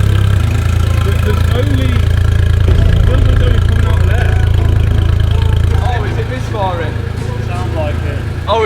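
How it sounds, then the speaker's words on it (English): A Porsche GT3 RS engine idles roughly while misfiring, a loud steady low rumble with uneven pulses running throughout, while several people talk over it close by. "Oh, it's misfiring, it's misfiring. You've got a flashing engine on."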